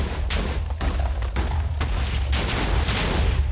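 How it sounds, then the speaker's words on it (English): TNT blows up in the video game Minecraft, a series of booming blasts in quick succession, loud and close, one after another over a dense rumbling bed. "Oh, TNT. Holy shit. Don't destroy the chance cube!"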